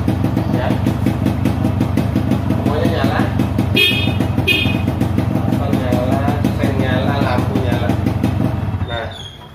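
A Yamaha RX King motorcycle engine starts and runs, with a steady two-stroke idle, a couple of short blips and a horn-like toot, under continuous talking nearby.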